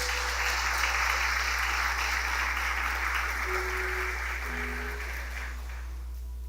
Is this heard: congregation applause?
yes